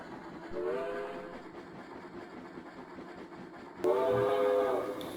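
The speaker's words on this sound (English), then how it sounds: "off to the right you can now see train number 255 just coming into the Spokane Falls and Northern trackage" Train number 255 in the Trainz railway simulator sounds two sustained whistle or horn blasts, one early and a louder one near the end, over a steady rolling rumble of the train on track.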